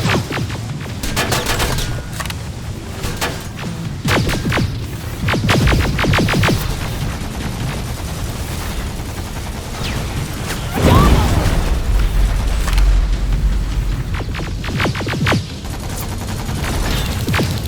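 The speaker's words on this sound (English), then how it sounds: "Got grenades? Fucking throw them!" A firefight in the video game Terminator: Resistance, with dense rapid gunfire bursts throughout and one deep, booming grenade blast roughly two-thirds of the way in, loud and close.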